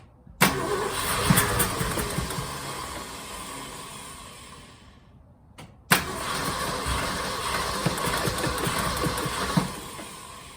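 A 1966 Ford F100 engine is cranked and fires up close by. There is a sharp start, a steady running rumble that dies away, then a second crank and restart into a sustained, even idle with no talk.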